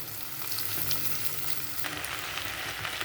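Tempering spices crackling and sizzling in hot oil for a curry, a dense, steady frying hiss with scattered pops, fairly quiet and without any talking.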